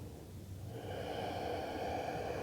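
Slow, soft breathing during a vinyasa yoga flow: one quiet inhale that swells into a steady, airy exhale, heard close and alone with no talking.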